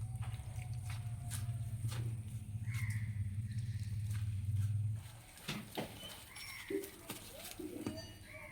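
Gram-flour batter for pumpkin-flower fritters is worked by hand with a little water added, giving soft, irregular wet squelches and slaps, close and quiet, after a stretch of low background hum.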